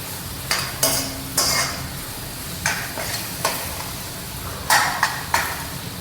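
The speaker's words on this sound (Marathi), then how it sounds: "एकदम असं छानसं मिक्स करून घेऊया तेलामध्ये." Vegetables frying in hot oil in a pan, stirred with a spoon that scrapes and clinks against the pan several times over a steady sizzle.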